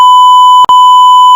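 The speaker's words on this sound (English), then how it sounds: "Beep." A loud, steady censor bleep tone holds almost without a break, cutting out for an instant partway through before resuming.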